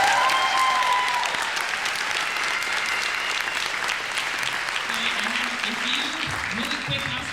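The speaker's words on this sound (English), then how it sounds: "So please, one more time, let's applaud our graduates." Audience at a Black Graduation 2016 ceremony applauding the graduates: a steady wash of clapping from a crowd holds throughout, with a few voices and cheers mixed in.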